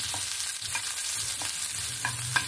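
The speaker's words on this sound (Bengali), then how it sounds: "এবার আমি এখানে দিয়ে দিচ্ছি রসুন আর কাঁচা লঙ্কাটা যে কুচিয়ে রেখেছি।" Chopped garlic and green chilies frying in mustard oil, a close crackling sizzle with a few scraping stirs spaced through it.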